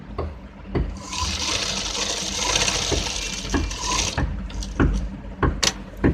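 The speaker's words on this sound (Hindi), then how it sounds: "इसको हम इस तरीके से जड़ में सिलाई मारेंगे, बुकरम की जो है जड़ में सिलाई लगाएंगे।" A sewing machine stitches at the base of buckram on a neckline, whirring steadily for a few seconds up close, followed by scattered clicks and handling knocks.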